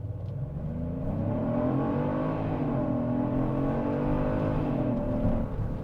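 A Genesis GV70 3.5-litre twin-turbo V6 in sport mode accelerates steadily, a low, dense engine drone rising gently in pitch and holding strong for several seconds, heard from inside the cabin with no talking.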